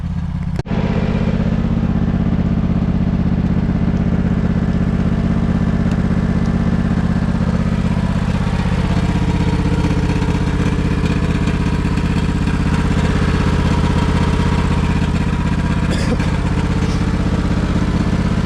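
A Husqvarna engine running steadily in snow during a snow mow, a loud close low-pitched drone with a constant rumbling hum and slight clatter, holding evenly from start to finish with no talk.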